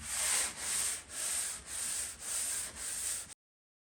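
Hand sanding of body filler on car bodywork, six even back-and-forth rasping strokes in a steady rhythm, close and fairly loud, stopping abruptly.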